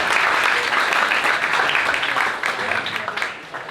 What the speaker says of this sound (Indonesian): Tepuk tangan dong untuk DKV.